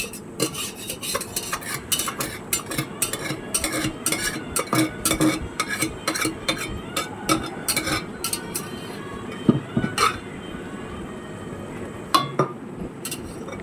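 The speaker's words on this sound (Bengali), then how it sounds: "এটা হালকাভাবে মানে নাড়াচাড়া দিতে হবে, একটু গ্যাসটাকে একটু বাড়িয়ে দিতে হবে" Fish head and bottle gourd curry being stirred in a pot, a quick irregular run of metallic clinks and scrapes from a spoon against the vessel over a low bubbling background, close and without talk.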